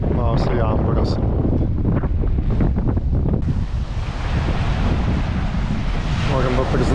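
Wind buffets a sailboat off Bequia, a steady broadband roar across the mic under the wash of nearby water, loud and continuous with no clear pauses.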